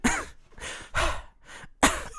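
A voice imitates breathy exhales: four forceful, airy bursts of breath, each followed by a pause, close and fairly loud, the last one the sharpest.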